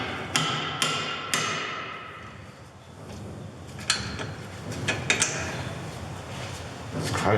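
Hammer taps on a bolt during a drive shaft intermediate bearing change on a Citroen C15, heard as a few sharp close metallic knocks at the start, followed by scattered quieter clinks and thuds in the workshop.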